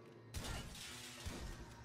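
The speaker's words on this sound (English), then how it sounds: "I just broke through the glass." A glass door shatters in GTA 5 Online with a sudden bright crash, then crunching shards and a second smaller burst of breaking glass, fairly faint overall.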